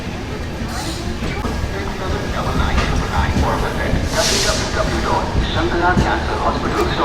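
The Sealdah–Puri Duronto Express, running late, pulls into Kharagpur Junction with a steady rumbling roar and a brief burst of hissing, while station voices murmur in the background.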